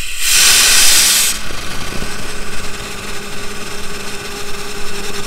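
Compressed air and water blasting out of the opened low point drains on a 2021 R-Pod 193 travel trailer during winterizing, a loud steady hissing rush at the start that gives way to a softer sputtering flow.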